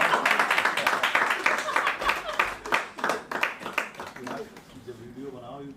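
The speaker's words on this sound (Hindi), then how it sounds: "तालियां वाली बजाइए।" Audience clapping at a poetry recital, a dense patter of many hands that fades over several seconds, with voices talking through it and a single voice coming forward near the end.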